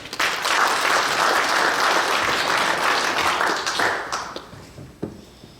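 A church congregation applauds to welcome a senior pastor to the pulpit at an installation thanksgiving service, the dense clapping holding steady, then thinning into a few scattered claps and taps near the end.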